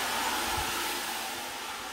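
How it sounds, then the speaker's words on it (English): An air dryer blows a loud, steady rushing stream of air over metal parts being prepped for powder coating, continuous with a few low rumbling bumps. "you gotta love the air dryer."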